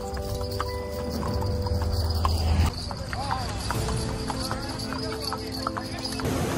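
Horse hooves clip-clop steadily during a ride at a city park in Jaipur, close and rhythmic, with a whinny, and someone talking over the hoofbeats throughout.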